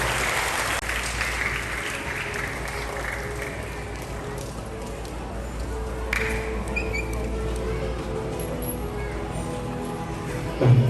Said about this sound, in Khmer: សូមអង្គពិធីទាំងមូលអបអរសាទរ